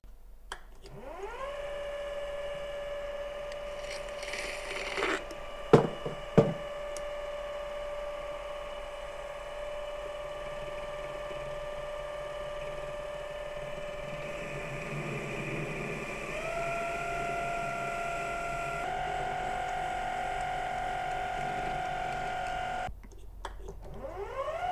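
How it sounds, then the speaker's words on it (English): A lathe turns mild steel stock in a workshop, a long steady mechanical whine with a shifting tone and a couple of sharp clanks early on, running alone before cutting off near the end. "So let's get it on the lathe."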